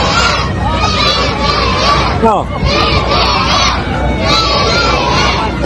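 A large crowd shouts and cheers loudly in welcome for President Bongbong Marcos, sustained massed voices rising in waves, with a brief break and a short spoken word in the middle.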